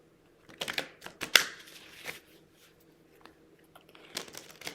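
Tarot cards shuffled close up in a series of crisp riffling bursts with short pauses between, no talking.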